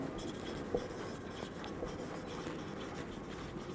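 Pen or pencil writing on paper during an accounting lesson, a steady scratchy rasp of strokes running throughout, close and fairly quiet, with no talking over it.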